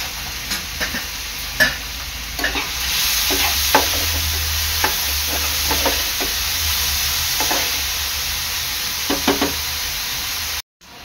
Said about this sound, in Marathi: कांदा आपल्याला चांगला लाल होईपर्यंत शिजवून घ्यायचा आहे।